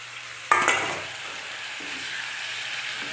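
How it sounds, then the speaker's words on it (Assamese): Washed lai greens drop into a pan of frying potatoes and chicken with a sudden loud sizzle that settles into a steady hiss of oil, with a brief scrape of stirring. "লাই শাকখিনি লাই শাক মই এতিয়া এড কৰি দিছোঁ"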